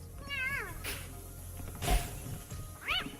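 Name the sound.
cat meowing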